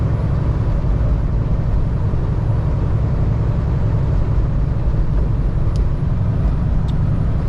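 Steady road traffic rumbling past in a constant low drone, a continuous wash of tire and engine noise with no breaks, heard from inside or beside a moving vehicle.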